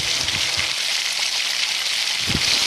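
Radish dish frying hard in a pan after soy sauce goes in, a loud steady sizzle with faint knocks of a spoon underneath.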